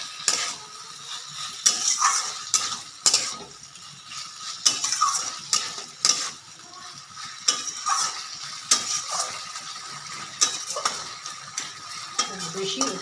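Banana flower ghonto is stirred in a frying pan, a spatula scraping in repeated uneven strokes over a soft, continuous sizzle, close and fairly quiet.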